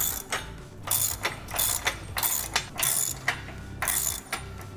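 Close, loud ratchet clicking comes in about eight rhythmic bursts while bolts are tightened on the bottom brackets of a half rack being assembled, with no voices.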